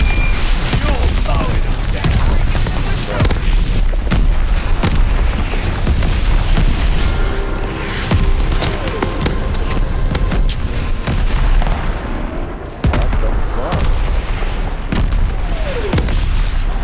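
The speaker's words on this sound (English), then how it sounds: "Heads up! Allied mortar fire coming." Mortar shells exploding during a team deathmatch round of Call of Duty: Vanguard, with repeated deep booms over dense, continuous battle noise.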